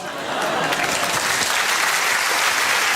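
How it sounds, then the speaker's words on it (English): A television studio audience on a comedy panel show breaks into applause that swells quickly and holds steady, a dense wash of clapping with no voices over it. "That's the most uncertain round of applause."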